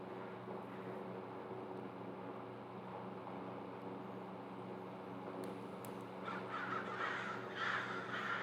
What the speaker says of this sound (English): Dude, the crows go crazy.